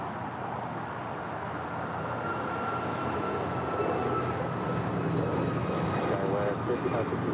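A Skyway airliner rolls for takeoff on runway 25 right at LAX, its engines a steady, broad roar that builds slightly and holds, heard from a distance without pause.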